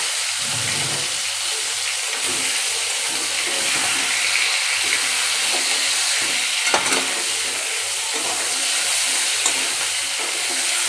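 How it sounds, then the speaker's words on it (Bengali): Brinjal and coriander frying in oil, a steady even sizzle with soft intermittent stirring scrapes, close and fairly loud throughout, no speech. "আমি ওই তেলে এবার কেটে রেখেছিলাম বেগুনগুলো দিয়ে ধনেটা ভেজে নেব"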